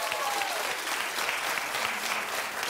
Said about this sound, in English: Keep clapping for Jimmy Kimmel.